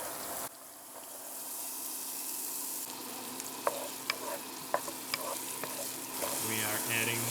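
Onions sizzle in preheated extra virgin olive oil for a mushroom risotto, a steady frying hiss with a few sharp pops and stirring clatter near the end.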